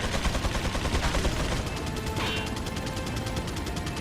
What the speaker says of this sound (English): Run to your left as soon as you can into the tunnel to get out of that gunfire.